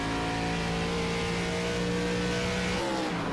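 ARCA stock-style race car engines in the iRacing sim at Iowa Speedway, a loud continuous roar that holds steady and then drops in pitch near the end.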